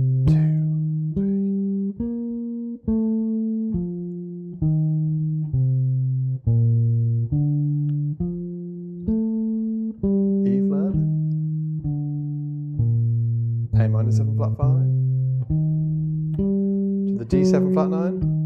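Solo bass guitar walking through four-note arpeggios over a chord progression, a steady stream of clean, distinct plucked notes rising and falling with a few percussive string slaps near the end.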